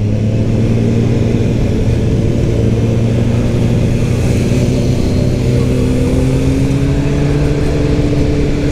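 A new Kawasaki Ninja motorcycle engine revs while being ridden on a season-opening ride in Kremenchuk. It is a loud, continuous close-up drone whose pitch climbs slowly and steadily over the whole stretch, with no talking.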